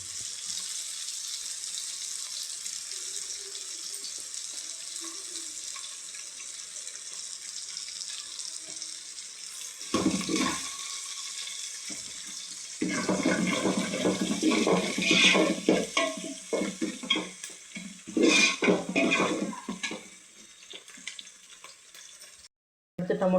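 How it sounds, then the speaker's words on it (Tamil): Garlic and curry leaves in hot oil: quiet hiss at first, then a sudden loud crackling sizzle that bursts and sputters for several seconds before settling, close and with no voices. "அடுத்து பூண்டு போட்டுக்கணும். அதுக்கு கருவேப்பிலை போட்டுக்கோங்க."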